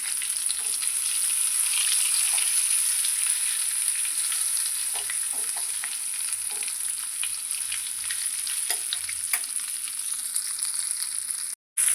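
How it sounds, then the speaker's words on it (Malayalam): Brinjal frying in oil, a soft continuous sizzle with occasional pops and light stirring clicks, close and steady until it cuts off at the end. "നമ്മുടെ കത്തിരിക്ക ഇപ്പം എണ്ണയിൽ കിടന്ന് നന്നായിട്ട് വെന്ത് വന്നിട്ടുണ്ട്."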